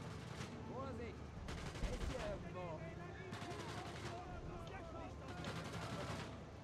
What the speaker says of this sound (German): Oh, ich höre nur noch Ballerei da bei dir.